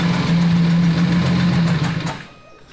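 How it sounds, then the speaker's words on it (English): A loud engine runs steadily with a ticking knock beneath its drone, suggesting a possible cylinder head problem, before the sound drops away near the end. "I can hear that there's a ticking"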